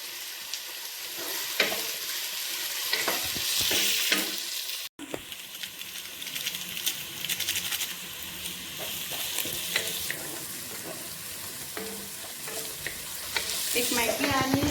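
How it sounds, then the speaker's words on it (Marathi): Carrots and French beans stir-fried in a pan for a Goan chav chav dish, with a steady sizzle and scraping stirs throughout, a brief dropout midway, and no talking. "सो कॅरट घायले आनी आतां न्हू फ्रेंच बीन्स घालता."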